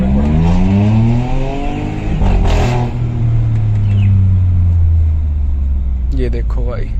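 A stage 2 tuned Hyundai i20 N Line with a Velvotronic exhaust revs up and down with a rising and falling rumbling tone close by, and a voice speaks briefly near the end.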